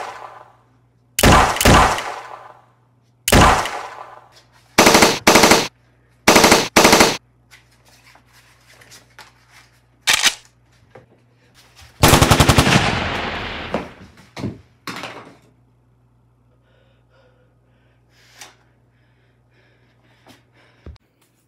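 Submachine-gun firing sounds for a cardboard toy gun come in several loud, short rapid bursts and single bangs spread over about fifteen seconds, with quiet gaps and faint noises trailing at the end.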